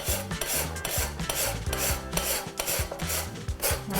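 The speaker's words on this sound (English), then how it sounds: "And then I just grate it into my bowl" Moist palm sugar is grated on a microplane into a bowl, a close, rhythmic rasping with quick back-and-forth strokes repeating steadily throughout, no talking.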